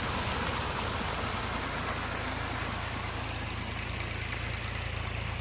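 A double-engine dewatering pump motor runs near a tower at a construction site, giving a steady, loud, unbroken drone with a broad noisy hiss over a low hum.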